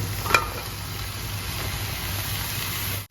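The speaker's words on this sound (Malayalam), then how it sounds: "ഇനി നമുക്ക് ഇതിലേക്ക് ക്ലീൻ ചെയ്ത് വെച്ചിരിക്കുന്ന അരിഞ്ഞ് വെച്ചിരിക്കുന്ന കൂണിട്ട് കൊടുക്കാം" Cleaned, chopped mushrooms dropped into a pan of frying masala: a sharp clatter as they go in, then a steady close sizzle with faint stirring and a low background hum.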